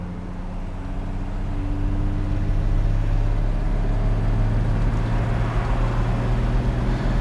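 A steady low drone of a 1965 Ford Mustang driving along a road at about 50 mph, constant engine and road noise throughout.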